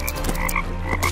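Cartoon frog croaking in a Vietnamese animated film, a series of close, loud rhythmic croaks over a steady low hum and music, with no talking.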